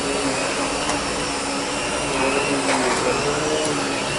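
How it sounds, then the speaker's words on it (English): A Riccar Prima upright vacuum cleaner runs continuously at close range, a steady motor whine with a faint tonal hum and airflow roar that stays even throughout, with no talking over it. "That vacuumed up pretty much the same amount of dust there."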